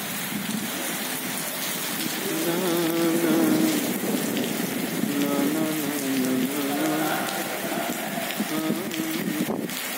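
Steady rain pours onto the ground and a rooftop during heavy monsoon-style weather with wind, a dense, even hiss that swells slightly midway and continues without pause.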